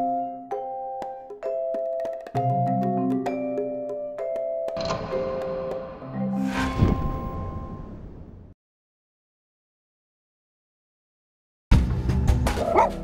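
A small dog barks in a series of sharp, separate yaps, close and fairly loud, alongside ringing tones; the sound cuts out for a few seconds before resuming.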